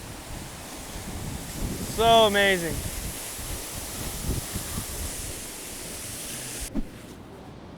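Ban Gioc Waterfall in northeast Vietnam roars as a steady, broad rush of falling water and mist, with someone briefly speaking and wind buffeting the microphone.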